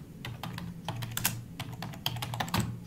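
A command being typed on a computer keyboard: quick, close key clicks in an uneven run with short pauses, heard alone and fairly faint.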